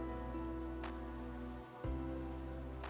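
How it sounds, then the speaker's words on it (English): Rain falling in the Minecraft video game, a steady soft wash of patter with a low constant rumble underneath, faint and continuous throughout with no speech. "It's raining!"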